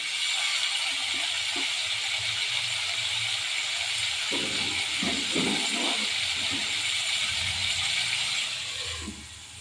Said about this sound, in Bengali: আলু আর পটলটাকে আগে আমি একটু ভেজে নেব ঢাকা দিয়ে।